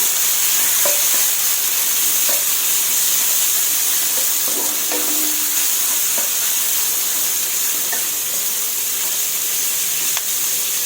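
Pork belly is stir-fried in a pan, rendering out its fat, with a loud steady hissing sizzle close by and occasional light spatula clinks over it.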